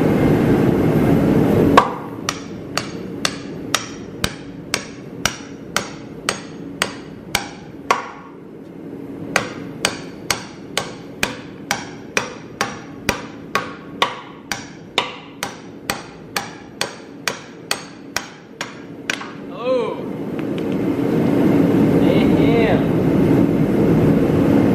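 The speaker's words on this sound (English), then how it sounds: "I'm gonna hammer this bad bitch out." Repeated hammer blows on a Nissan 240SX subframe, around thirty sharp metallic strikes in a steady rhythm with a short pause partway, close and loud, followed by shop noise.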